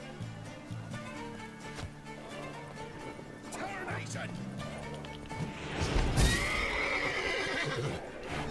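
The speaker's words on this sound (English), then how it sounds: "Go away, horses!" Horses neigh and whinny repeatedly in The Witcher 3: Wild Hunt, with clip-clopping hooves and a busy game soundscape, the whinnies swelling loudest near the end.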